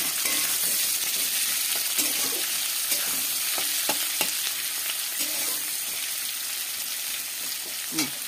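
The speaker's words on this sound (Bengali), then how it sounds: "এই পেঁয়াজ কুচিটা ভাজা হয়েছে" Chopped onion fries in hot oil in a pan while potol (pointed gourd) is being cooked, giving a steady close sizzle with occasional stirring scrapes and clinks, and no talking.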